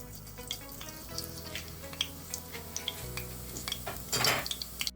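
Fennel seeds crackle and sizzle in hot oil in a pan, with a steady frying hiss, faint clinks of a utensil, and a louder burst of spitting toward the end; no voices.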